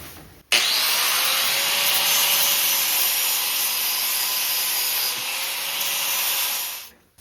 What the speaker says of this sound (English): I'm gonna need to grind this really quick to clean up the spot for welding.